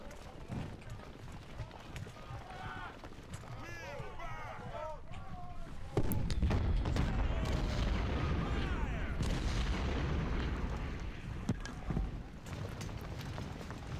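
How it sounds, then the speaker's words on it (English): Cannon and artillery fire in the Civil War strategy game Ultimate General: Civil War, with a sharp boom around six seconds followed by sustained rumbling battle noise and scattered shots, mixed with background game effects. "we need our cannons firing on McHenry"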